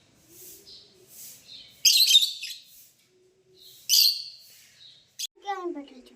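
Soft cooing calls of black pigeons in a coop alternate with sharp rustles and wing flaps, close by in a quiet space, with a brief squeak at the end.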